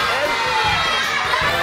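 A crowd of children shouts out their favourite colours at a magician's show in a gym, a loud, continuous jumble of overlapping young voices yelling together.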